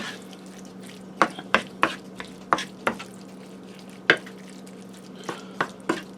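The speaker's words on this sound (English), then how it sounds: "you just want to stir it in there good, guys" A utensil stirs a sloppy joe mixture in a pan, making a run of sharp scraping and clacking strokes against the pan over a low steady hum, with a short pause midway.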